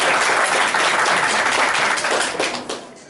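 An audience at a panel debate marking the national day of struggle for people with disabilities claps steadily in a loud, dense burst of applause that fades over the last second.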